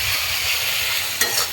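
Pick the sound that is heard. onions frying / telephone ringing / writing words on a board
onions frying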